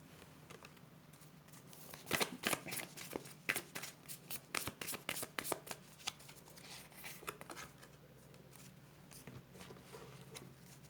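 Tarot cards are shuffled by hand in a quiet room: a quick run of crisp, riffling card snaps and flicks up close, busiest in the middle and thinning toward the end.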